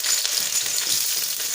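Bitter gourd frying in a pan, cooked until dry: a dense, steady crackling sizzle, close and continuous for the whole short stretch.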